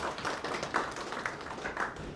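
Scattered clapping from participants at an AgriTech AI hackathon during Gusii Innovation Week, soft and somewhat distant, in uneven bursts throughout.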